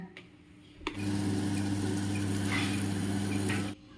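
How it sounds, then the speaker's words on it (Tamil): An electric wet grinder churns soaked rice with grated coconut into murukku batter, switching on with a click and then running as a steady, loud motor hum with a rough grinding texture until it abruptly stops. "அரிசி அரைக்கையிலேயே தேங்காயும் போட்டு அரைச்சிடணும்"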